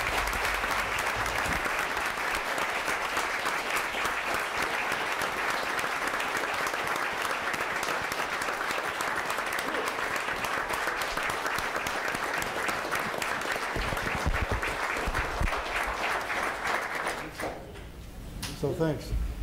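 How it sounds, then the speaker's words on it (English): Sustained applause from the audience at a city council meeting for a young man, a dense continuous wash of clapping lasting about seventeen seconds before it thins out and stops, with a few stray claps at the end. "have an applause for this young man"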